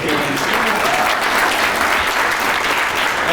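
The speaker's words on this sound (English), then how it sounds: "Let's give them a big round of applause" A conference crowd at the Community Builders Gather CLE event applauds councilmen Kevin Conwell and Richard Starr, with dense, continuous clapping at a steady loud level and no pause in the clip.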